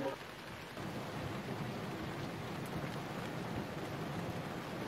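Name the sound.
heavy rain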